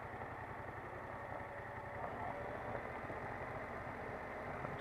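A motorcycle engine drones low and steady under engine braking while rolling downhill in first gear, a faint, continuous hum with mild vibration and no voices.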